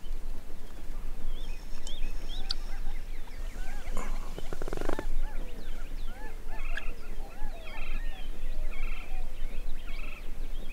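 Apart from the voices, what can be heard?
wild turkeys gobbling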